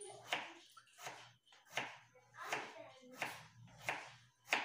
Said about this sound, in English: I'm gonna finish cutting these potatoes up